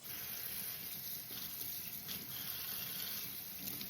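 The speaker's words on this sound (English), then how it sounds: "So I'm going to go ahead and rinse off each leaf." Tap water runs steadily over arugula leaves being rinsed one by one in a sink, a continuous close hiss and splash with no voices.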